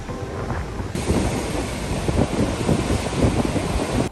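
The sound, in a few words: strong wind on the coast of Achill Island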